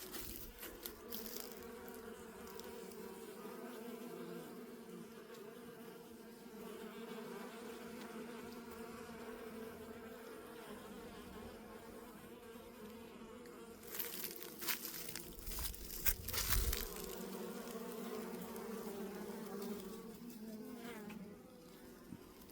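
Honeybees buzzing in an apiary bee yard, a steady continuous drone of many insects with a louder swell partway through, heard alone outdoors.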